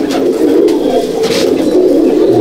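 Pigeons coo in a loft in Halisahar, North 24 Parganas, where black pigeons are kept. The low, throaty calls are steady and fairly loud, with a constant murmuring drone and a faint chirp or two.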